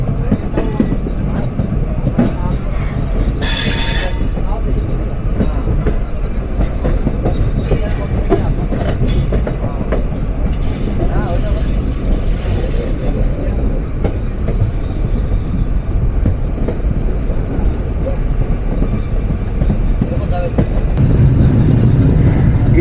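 Chitra Express train running along the railway on the Ishwardi bypass in Bangladesh, a steady continuous rumble with clickety-clack of wheels on track, heard from onboard, loud and unbroken throughout.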